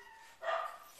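Maggie, a dog greeting her owner at the door, lets out a single short, faint whimpering yelp that fades away quickly.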